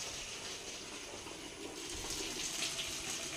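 Water runs from a tap, a steady soft hiss and splash that goes on throughout and is faint and close with no talk.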